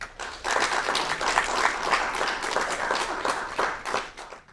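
Audience applause for a poet after a reading at a performance event, a crowd of hands clapping rapidly and steadily, swelling quickly at the start and holding before tapering near the end.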